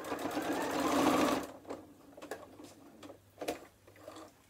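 A sewing machine stitching fabric whirs steadily in a fast, even stitching run for over a second, then stops, leaving faint clicks and handling sounds.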